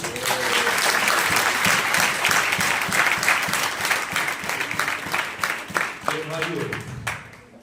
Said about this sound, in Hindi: यीशु के लिए ताली बजाएंगे